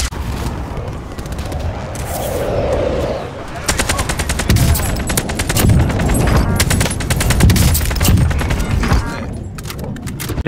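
Rapid machine gun bursts ring out in the Plunder game, loud, sustained strings of shots with heavy booms, with players talking faintly over the fire.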